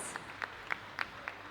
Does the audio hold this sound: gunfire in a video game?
no